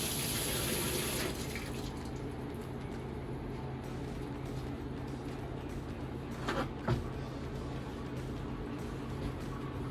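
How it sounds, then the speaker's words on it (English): A running tap pours into a sink while hands are washed under it, a steady, soft rush of water with a brief splash and knock partway through, fairly quiet and without talk. "So this is the first step, to wash our hands."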